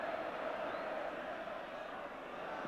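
A large football crowd of Coventry City supporters cheering at an FA Cup quarter-final, a dense distant roar of many voices held steady, with a commentator talking over it.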